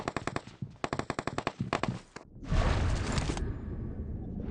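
Rapid bursts of automatic gunfire in the battle-royale game BGMI, sharp repeated shots for about two seconds, then a loud rushing blast and rumbling noise afterward.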